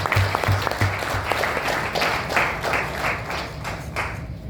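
Audience applause at a general training seminar, a loud, sustained burst of many hands clapping that fills the room, with a few sharper claps standing out early on.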